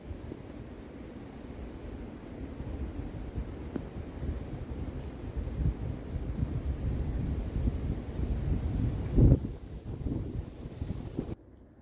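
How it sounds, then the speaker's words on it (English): Steady wind gusts buffet the microphone out in the Wisconsin northwoods during an autumn deer camp, a continuous low rumbling roar that swells slightly toward the end before cutting off. "While it's nice and windy"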